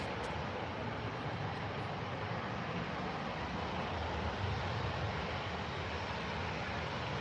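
Emirates Airbus A380 slowly taxiing at Manchester Airport, a steady broad jet engine roar heard from a distance, continuous and even throughout with no talk.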